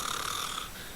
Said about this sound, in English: All I hear are snores